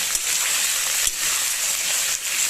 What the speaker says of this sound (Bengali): আলুটা দিয়ে দেবো দিয়ে ভালো করে নেড়ে চেড়ে ভেজে নেব